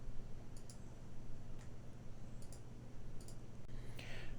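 A computer mouse clicking Next during a Codecademy coding lesson: several faint, evenly spaced clicks over a steady low hum.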